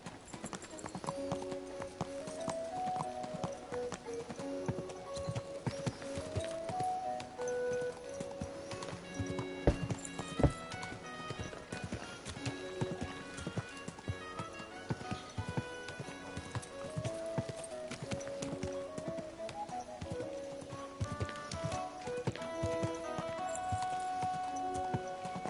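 Horse hooves clip-clop steadily and rhythmically throughout, close by, under a melodic game-style music score in Kingdom Come Deliverance II.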